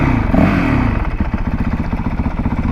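A Honda CRF450RL motorcycle fitted with a new exhaust, its engine heard up close as a loud, throaty idle with a fast pulsing thump and audible intake noise after a brief rise in revs.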